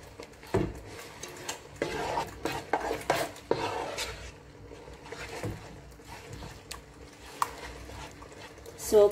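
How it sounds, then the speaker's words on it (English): A spoon scrapes and clinks around a pot of pork green curry made with cream coconut milk, in scattered irregular strokes with soft liquid sloshing while a person talks over it. "Haluin na natin, guys, para pantay yung kulay nito."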